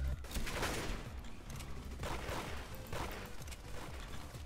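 Rapid, dense gunfire from a Gatling gun in the Roblox game Arsenal, a continuous loud fusillade of shots rattling throughout with no pauses.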